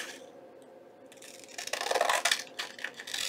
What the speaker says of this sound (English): I'm going to grab my scissors and I'm just going to trim out around my rectangle here